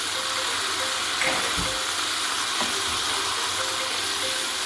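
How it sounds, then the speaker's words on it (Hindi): Ginger-garlic paste fries in a karahi for chicken karahi, giving a steady low sizzle with a couple of faint knocks from a utensil. "अब हम इसके अंदर डालेंगे लहसुन अदरक का पेस्ट।"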